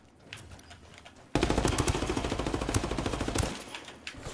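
Video game machine-gun fire: a loud, rapid automatic burst lasting about two seconds with evenly spaced shots, starting abruptly after a quieter lead-in and then dropping back down.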